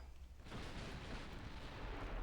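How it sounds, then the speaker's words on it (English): Heavy battleship guns thunder in the Ultimate Admiral: Dreadnoughts naval game, a sustained rumbling barrage that swells after a quieter opening and stays dense and booming throughout. "There's some battleship gunfire. Thundering away."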